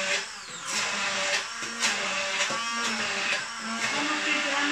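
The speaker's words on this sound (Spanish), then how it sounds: "Venga, el huevo y el aguacate. Lo vamos a triturar." A blender whirs loudly and steadily, pureeing egg and avocado into an avocado mayonnaise, its motor pitch wavering slightly as the mixture churns, with brief speech underneath.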